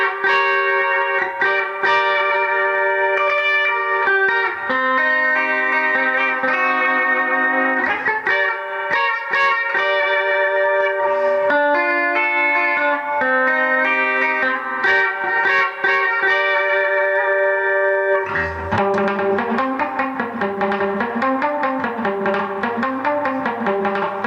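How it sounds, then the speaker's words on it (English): A Stratocaster fitted with Seymour Duncan Phat Cat humbucker-size P90 pickups plays a sustained surf-style line, drenched in reverb, with a pulsing tremolo wobble swelling in near the end; loud and alone, no talking. "we're going to add some reverb and tremolo, take off the flashback delay"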